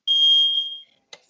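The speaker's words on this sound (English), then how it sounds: "Sorry, guys, it's my alarm." A loud, steady electronic alarm tone sounds for almost a second during a virtual cooking class while quinoa steams, then one short clicking blip follows after a brief silence.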